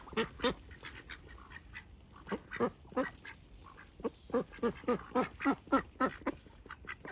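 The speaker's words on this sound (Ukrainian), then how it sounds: "Качки. Все бубонять" Ducks quack over and over in quick, overlapping bursts, a lively nearby chorus growing denser toward the end.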